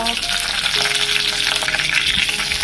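Panch phoron spices and bay leaves frying in white oil, a steady dense sizzle throughout with light stirring clinks, close and fairly loud with no talk.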